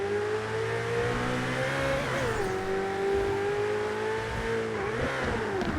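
A Ferrari engine in a modded video game roars steadily at high revs, pitch dipping and climbing again as it shifts, loud and continuous with no talking.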